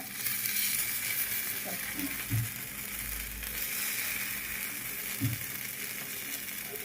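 Kuzhi paniyaram frying in a pan over low heat, a faint continuous sizzle with a few soft clicks and taps as the pieces are turned, close by and without speech.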